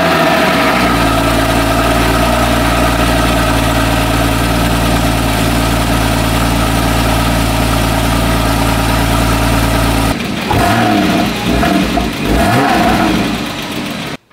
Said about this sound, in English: let's go ahead and give you guys a cold startup.